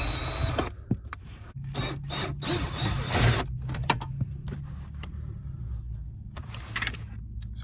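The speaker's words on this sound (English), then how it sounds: "I'm going to attempt to take this out using my drill." A power drill with a 7/32 bit backs screws out in tight quarters on a Pontiac Vibe's AC housing, giving bursts of whirring and squealing broken by short pauses.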